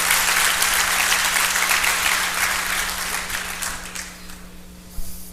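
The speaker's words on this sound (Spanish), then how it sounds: "que se ponga de pie para que le brindemos un buen aplauso por todo lo que ha hecho" Conference audience applause in a large hall, a steady wash of many hands clapping that slowly thins and fades over several seconds, with a low steady hum underneath and a single sharp knock near the end.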